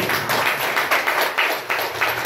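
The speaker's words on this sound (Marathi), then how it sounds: "एकदा जोरदार टाळ्या होऊन जाऊ काकांसाठी" An audience claps steadily with loud, dense applause, rising and falling in waves for the whole stretch, with no talk over it.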